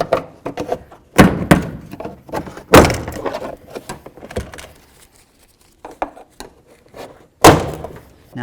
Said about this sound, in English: To do that, I'm going to continue on with my plastic trim tool, get in between the door panel and the door itself,